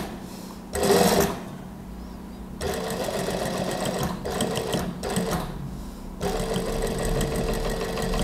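A sewing machine stitches a Japanese zipper onto a gamis garment in several separate runs of steady mechanical whirring, close and loud, with short pauses between bursts and a brief louder clatter near the start.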